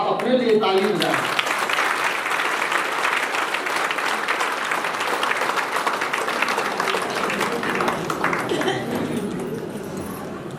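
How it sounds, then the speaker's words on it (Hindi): A seated audience at a spiritual discourse breaks into applause, dense continuous clapping that swells quickly and holds steady for about ten seconds before tapering slightly at the end. "आप अपने लिए ताली बजाएं।"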